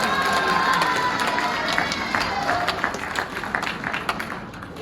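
Guests at a Christian wedding applaud right after the couple's vows: a lively burst of clapping mixed with cheers and excited shouts from the crowd, easing off slightly toward the end.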